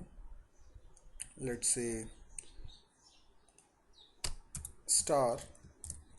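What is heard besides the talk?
typing on a computer keyboard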